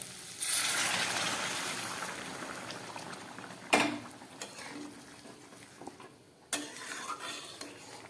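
Potato curry gravy bubbles gently in a pot after warm water is added, a faint simmering hiss broken by a couple of sharp utensil clinks.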